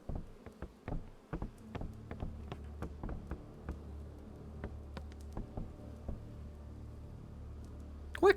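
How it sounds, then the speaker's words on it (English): A low insect-like buzzing drone from bees in a video game runs under a series of sharp, irregular tapping knocks that thin out toward the end, with no talking. "I can hear bees."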